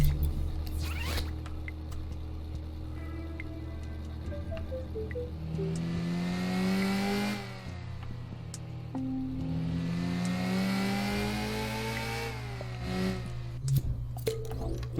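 A car engine in the Dreams PS4 game revs in long rising and falling whines, climbing twice in pitch before dropping, steady and fairly loud with no talking.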